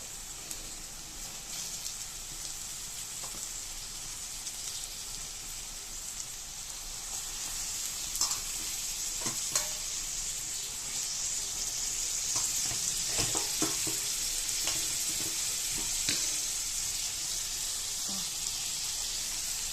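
Raw fish rubbed with salt and turmeric frying in hot oil for a fish curry, a steady hiss of sizzling with scattered pops and crackles, fairly close and continuous, with no talking.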